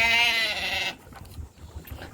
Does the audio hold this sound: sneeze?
no